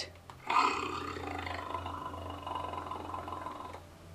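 A deep, sustained tiger roar rumbles for several seconds, close and loud, then fades out.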